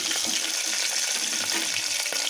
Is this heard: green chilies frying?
yes